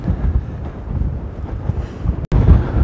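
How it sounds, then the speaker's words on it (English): Strong gusting wind on an open coastal path by the estuary between South Fambridge and Battlesbridge, buffeting the microphone with a loud continuous low roar, a brief dropout, then renewed heavy rumble. "Oh god, very windy here."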